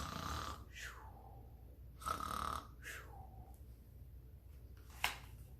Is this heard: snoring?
yes